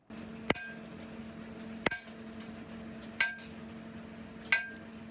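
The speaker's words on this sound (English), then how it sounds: "the hammer is literally sliding with every strike" Hammer blows on steel while a handmade Japanese knife is forged, four sharp metallic strikes spaced about 1.3 seconds apart, close and ringing over a steady background hum, with no talk.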